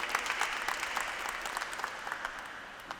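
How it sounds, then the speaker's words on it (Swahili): Applause at a bishop's ordination ceremony: a large congregation claps steadily and densely, a sustained even patter of many hands heard from a little distance, with no voices standing out. "sisi tunapiga makofi"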